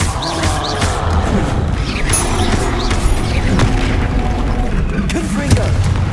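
Bombarda blasting spells going off in Hogwarts Legacy, a dense, loud run of booms and crashing debris that never lets up, with game voices shouting spell names over the barrage.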